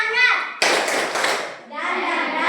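Children perform the rhythmic clapping game tepuk semangat: a short burst of group hand claps breaks in between young voices chanting together, with the chant carrying on after the clapping.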